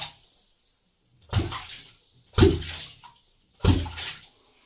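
A homemade kvok fishing lure is jerked sharply through water from a boat, giving three loud, hollow watery pops about a second apart, each fading into quiet before the next.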